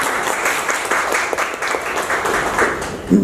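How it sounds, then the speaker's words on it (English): A room full of people at a Toastmasters meeting breaks into a round of applause, dense and steady throughout the few seconds, with no talking over it. "yes, we can have a round of applause"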